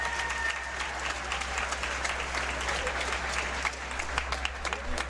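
Continuous applause from a crowd at a jigsaw puzzle championship, a dense patter of clapping at moderate level that holds steady, with a low hum underneath.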